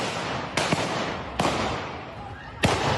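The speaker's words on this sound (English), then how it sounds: "The sound of gunshots prompts a flurry of panic" Three sharp gunshot cracks spaced irregularly across a few seconds outdoors, each a sudden broadband burst over background noise.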